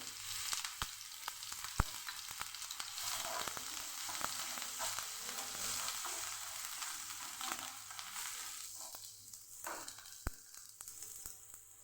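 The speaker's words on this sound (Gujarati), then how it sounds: "લીલું મરચું જે સુધારીને લીધેલું એ આપણે પહેલાં સાતળી લઈશું" Chopped green chillies sizzle and fry steadily in hot oil with asafoetida in a pan, a continuous close crackle with occasional sharper pops and light stirring scrapes.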